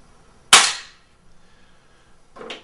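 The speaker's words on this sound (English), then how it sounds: "Going to shoot across the sky screens." A Beeman P3 air pistol fires a single sharp, loud crack across chronograph sky screens outdoors, followed by a softer, shorter thud.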